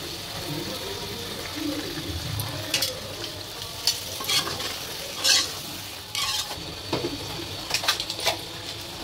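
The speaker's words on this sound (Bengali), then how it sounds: "এই কাঁচা জিরাটা বাড়ি দিলাম।" Raw cumin seeds sizzle and fry in a pan, a steady soft crackle broken by sharper bursts as the seeds are stirred, close by and moderately loud.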